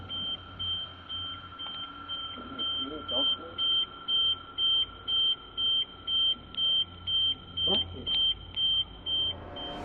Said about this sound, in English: The car alarm goes off